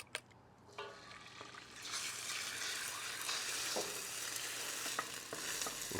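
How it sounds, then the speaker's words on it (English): A beaten egg hits hot peanut oil in a wok and bursts into a loud, steady sizzle after a few quiet clicks, the frying hiss holding strong and close. "The first thing that's going to go into the pan is 1 egg beaten. And this will cook very quickly."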